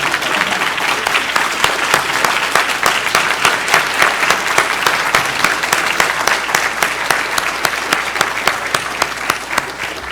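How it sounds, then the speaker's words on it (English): Loud, sustained applause from a large audience at a closing celebration, dense clapping with a few sharp individual claps standing out, steady throughout with faint crowd murmur. "Give this man a round of applause."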